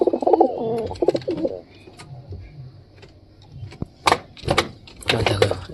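A pair of Giribaz pigeons call in a loft while the hen sits on an egg. Throaty cooing opens the stretch, then a quieter lull and some sharp clatters and rustles near the end.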